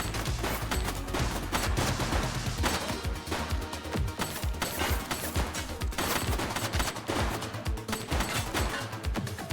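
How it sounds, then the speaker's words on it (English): A dense police shootout in The Precinct rattles with continuous overlapping gunshots and bursts, loud and close, sustained across the whole stretch. "She's shooting!"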